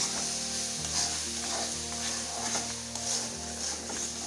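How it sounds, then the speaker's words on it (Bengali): Dhoka dalna, a vegetarian curry of lentil cakes, being stir-fried in a pan, making a close, steady sizzle with repeated stirring scrapes and a low hum underneath, no voices. "এখন এটাকে আমি ভালো করে কষিয়ে নেব"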